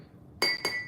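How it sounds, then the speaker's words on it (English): A whisk strikes the side of a glass holding a cacao chocolate drink, giving three quick, bright clinks in under a second, close and fairly soft. "Whisk time."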